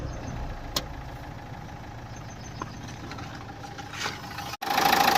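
A 2013 Renault Duster RXZ diesel idles with a steady mid-low drone, a few small clicks and knocks over it, ending in a sudden brief dropout followed by a louder burst.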